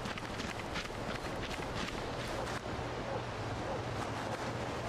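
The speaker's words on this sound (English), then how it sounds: "I can hear footsteps." Footsteps run across the ground in the PC shooter SOCOM Revolution Mod, a steady stream of quick, soft steps under constant wind-like background noise.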